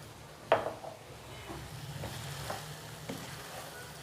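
Whole cumin seeds dropped into hot oil for a dhaba-style mixed vegetable dish, a sharp sizzling burst followed by crackling bursts and stirring, close and alone.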